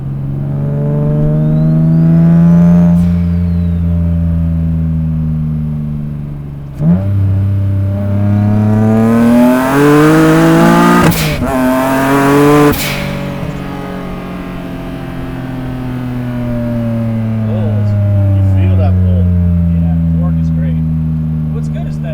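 A 600-horsepower single-turbo Nissan 350Z on street tires pulls hard through the gears, its engine note climbing and dropping in repeated revving sweeps with sharp breaks at each shift, loud and close throughout.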